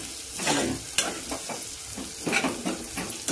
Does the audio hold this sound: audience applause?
no